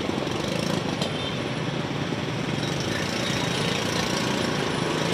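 Steady rumble of idling vehicle engines in a traffic jam on a narrowed beach road in Padang, Indonesia, continuous and droning, with no break in the dense low noise.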